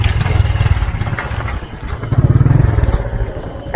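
A motorcycle engine idles and revs nearby, a loud, rough, clattering mid-pitched running sound that swells and dips, with no talking over it.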